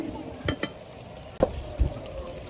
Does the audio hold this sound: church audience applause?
no